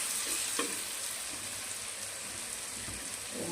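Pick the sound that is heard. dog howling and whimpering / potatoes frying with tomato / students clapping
potatoes frying with tomato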